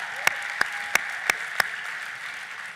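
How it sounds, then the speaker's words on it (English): Under a steady crowd roar at a Netroots Nation 2018 closing keynote, five distinct claps ring out about every third of a second. They come as applause from an audience in a large hall. "if you are, clap, because it's a heck of an accomplishment"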